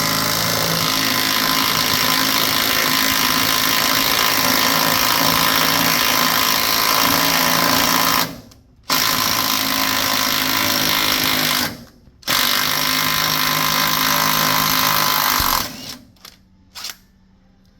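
A power tool drives out rack and pinion bolts on a Chevy Colorado or GMC Canyon, a loud continuous grinding whir close up, cut off by three brief pauses and a few short bursts at the end.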